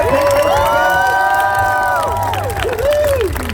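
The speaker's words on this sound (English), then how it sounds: "Everybody applaud for her" Outdoor crowd at an Alaskan racing pig show cheering and applauding, loud continuous whoops and shouts with high excited voices and clapping under them, sustained throughout.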